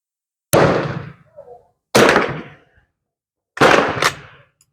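Three sharp gunshots from a WZ48 Polish .22 caliber training rifle firing .22 long rounds, each a loud close crack with a short decaying tail, spaced well apart with silence between.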